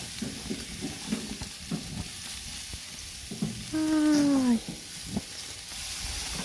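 Pork bones and corn grill on a very hot stove, with the corn scorching and popping. A continuous sizzle runs under scattered crackles and stirring knocks, and a brief high whine cuts in midway.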